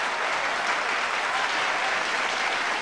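Loud, steady crowd applause and cheering in the Dancing with the Stars video game on Nintendo Wii, filling the whole stretch without a break, with no talking over it.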